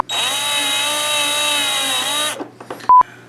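A power drill with a bit tries to drive old flathead screws in a shop, giving a loud, steady whine that runs about two seconds and winds down, followed by a few short clatters and a brief sharp beep.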